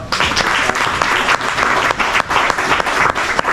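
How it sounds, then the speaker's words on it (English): Loud, sustained applause from an audience at the championship weigh-in of a crappie fishing tournament, dense clapping running steadily throughout with a few brief dips. "give them a round of applause"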